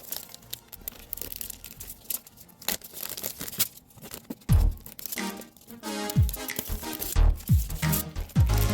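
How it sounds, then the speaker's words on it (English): Scissors cut through the edges of a plastic bag, giving close crinkling and rustling with sharp snips and tearing crunches in an irregular rhythm, louder toward the end, with no talking. "Using scissors, cut through the edges of your plastic bag like this."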